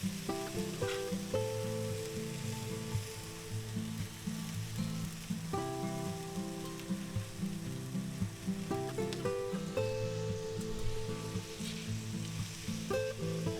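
Ham, eggs and cheese sizzle and fry steadily in a covered pan, a dense continuous crackle with occasional faint clinks of utensils.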